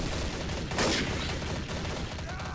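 Gunfire in the game Trouble in Terrorist Town on the Nuke Town map, a dense continuous burst of shots and loud noise filling the whole stretch with a stronger blast partway through.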